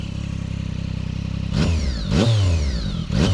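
A motorcycle idles with a fast, even putter, then revs sharply three times, each burst of revs climbing and falling away, loud and close by.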